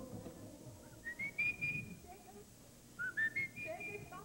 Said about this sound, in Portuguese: E agora um trecho assobiado da música.